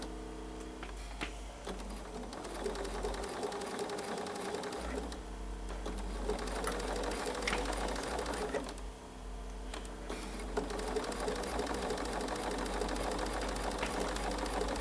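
A sewing machine stitches a curved quilt seam, its steady rapid needle chatter and motor hum running close and continuous, pausing briefly twice before resuming, with no talk over it.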